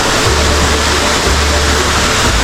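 A waterfall in the mountains of Tiwi, Albay, heard from right in front of the falls: a loud, steady, dense rush of falling water with deep rumble, continuous and unbroken.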